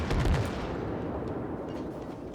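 Naval guns firing in the World of Warships video game, a heavy booming salvo at the start followed by rumbling, rolling reports that fade gradually.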